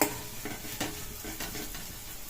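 Ivy gourd frying in a pan with turmeric as it is stirred, giving a continuous soft sizzle broken by a few light scrapes of the spoon against the pan.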